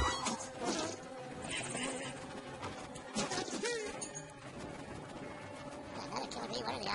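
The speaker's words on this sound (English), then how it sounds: "Got another killer bee?" Killer bee buzzing in the survival video game Don't Starve, a continuous insect drone under busy game music and effects, with no talking.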